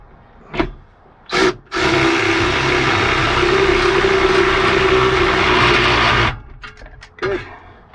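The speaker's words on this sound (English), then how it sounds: "which should be able to drive this in with no problem. Either my 12 or 18 bolt impact." A 12- or 18-volt impact driver drives a bolt into a van, giving one sustained loud hammering whir of about four seconds, close up. A few short clunks and knocks come before and after it.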